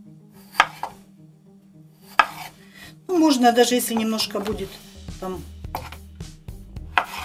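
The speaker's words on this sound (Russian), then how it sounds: "Теперь нарежем картофель." A few sharp knife strikes on a cutting board as potatoes are cut into 1.5 cm cubes, spaced out, then a person talks over faint clicking and occasional knocks.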